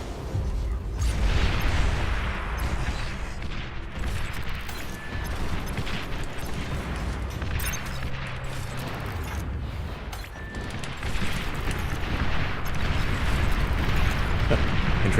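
Constant rumbling barrage of artillery fire and explosions in the strategy video game Beyond All Reason, a dense, loud wall of booms and bursts with no letup across the stretch.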